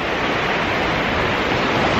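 Steady broadband rush of Baltic Sea surf breaking on the beach at Świnoujście, Poland, continuous and fairly loud with no voices.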